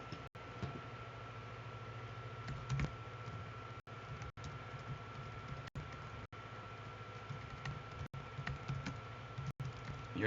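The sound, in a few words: computer keyboard typing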